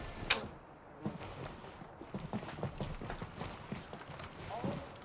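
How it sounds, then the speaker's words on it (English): Footsteps in an online shooter game sound as soft, repeated thuds and scuffs at a steady pace, mid-distance, over a low ambient bed with a sharp click near the start. "I hear footsteps."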